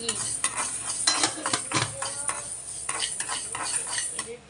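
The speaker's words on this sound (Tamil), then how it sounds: "பொன்னிறமாக வறுத்துட்டு" Fenugreek seeds roast in a dry pan for a gooseberry pickle, heard as brisk, close rattling and scraping of a metal spoon against the pan in quick irregular strokes, with a light sizzle beneath and no talking.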